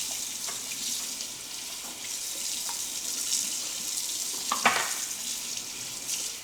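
Tap water runs in a steady close hiss into a sink while cured bacon is rinsed under it, with a few brief splashes and clunks partway through.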